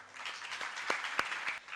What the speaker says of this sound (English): requesting you to welcome with a thunderous applause, Srimati Jyoti Hegde